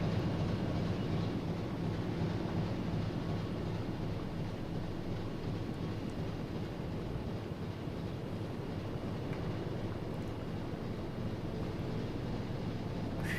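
A continuous low engine rumble fills a submarine interior in the game UBoat, steady and moderately loud with a broad churning hum that never lets up, no speech over it.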